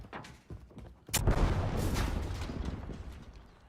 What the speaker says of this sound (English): Frag throw.